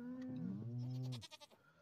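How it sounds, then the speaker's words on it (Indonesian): A goat in the farming video game Stardew Valley gives one drawn-out wavering bleat that breaks into short stuttering pulses at the end, clear and alone. "Kambing lucunya berjenggot dia."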